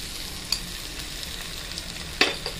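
Poppy seed and melon seed paste frying in a pan, a low steady sizzle broken by a few sharp clicks of a spoon against the pan, one louder knock near the end.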